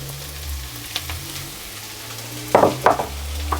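Pine nuts, olives, capers and tomatoes land in a frying pan on medium heat with a steady low sizzle, followed by a few sharp clattering bursts as the ingredients hit the pan and shift, all close and free of talk.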